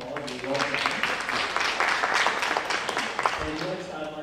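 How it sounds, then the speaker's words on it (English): Audience clapping in a round of applause at a community meet-and-greet evening, a steady moderate patter of many hands with some voices over it. "so please give her a round of applause"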